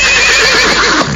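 A single loud, close horse neigh, a shrill whinny that wavers for about a second and then cuts off, heard alone without speech.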